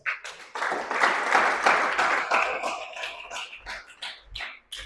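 A church congregation claps together in praise, a burst of dense applause that swells and then thins into scattered claps, ending with a few louder close thumps.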